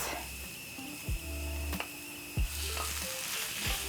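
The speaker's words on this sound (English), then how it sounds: "So to my pan, I'm going to be adding in my meat." Ground meat sizzles steadily in a pan with onions and spices, a close, continuous frying hiss broken by a few soft stirring knocks and scrapes, with no voices.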